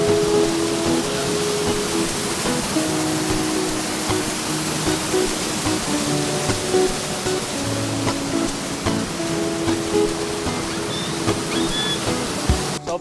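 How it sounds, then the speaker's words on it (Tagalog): Waterfall and strong river current roar in a steady, loud broadband rush that fills the whole clip, with no speech, a tall falls pouring nearby. "Sobrang taas nung falls"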